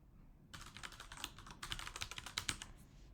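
Rapid, light keystrokes on a computer keyboard entering an email address, a quiet close burst of irregular clicks after a brief pause, with no speech.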